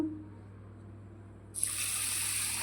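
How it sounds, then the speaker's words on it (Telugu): Water pours over soaking urad dal and fenugreek seeds in a kitchen, a steady close rush of liquid that starts suddenly after a quiet stretch and runs continuously to the end. "ఇప్పుడు నీళ్ళు పోసేసుకుందామండి మనము"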